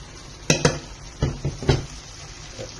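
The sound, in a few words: chicken being stirred in butter in pan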